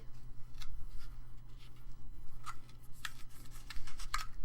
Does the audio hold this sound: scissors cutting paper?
yes